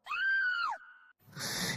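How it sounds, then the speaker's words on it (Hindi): A woman lets out one loud, sustained scream of horror lasting under a second, then a brief tone and a burst of breathy noise. "अनीता ने यह रूप देखते ही जोर से चीख मार दी।"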